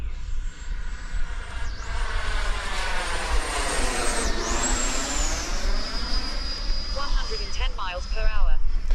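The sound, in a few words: RC plane flying a level speed pass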